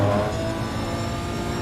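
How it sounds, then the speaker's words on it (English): A Nissan GT-R race car at Zolder, its engine holding a steady, loud, buzzing drone with a slight rise in pitch, heard close and uninterrupted with no talking. "GTR sounds absolutely awesome"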